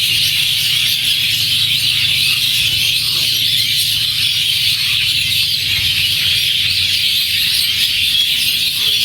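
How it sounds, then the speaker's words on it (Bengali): Birds sing in the trees as a dense, continuous chorus of chirps and calls that holds steady throughout. "তো এখানে পাখির কিছু মিশিয়ে শোনাতে শোনাতে ভিডিওটা শেষ দিয়ে দিলাম।"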